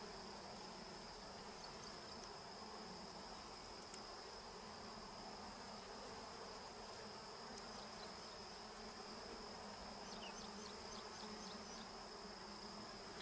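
Wild bees in the forest give a steady, continuous buzz throughout, a constant insect drone with a faint high whine and no talking.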